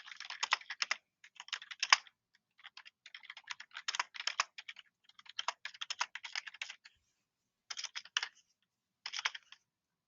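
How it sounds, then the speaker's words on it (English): Typing on a computer keyboard, close and crisp, in uneven bursts of rapid key clicks separated by short pauses. "Let's type it."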